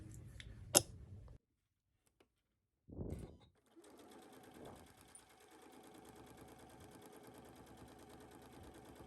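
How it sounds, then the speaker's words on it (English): A sewing machine stitches a pants seam at a 5/8 allowance, running steadily for the last several seconds after a sharp click, a quiet gap and a brief rustle of fabric. "you're going to stitch along the line here at 5/8"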